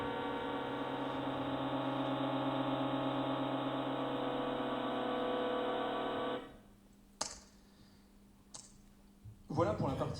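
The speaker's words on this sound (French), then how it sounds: "Ce que vous entendez, c'est chacun des pulsars qui se passe sur le relais au fur et à mesure qui forment des accords." Sonified millisecond pulsars combine into chords, a sustained, harmonic electronic drone that cuts off abruptly partway through, followed by a few clicks and brief talking.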